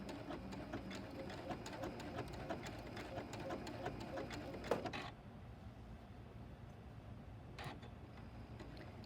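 A sewing machine stitches appliqué fabric in short, quiet bursts of rapid needle clatter that stop abruptly partway through, with a brief return of stitching near the end.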